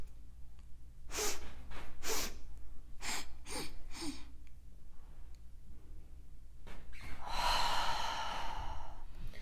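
Deliberate breathing in a Taoist ovarian breathing exercise, a series of close audible breaths and sighs, several short sharp inhalations followed later by a long, airy exhale, with no speech.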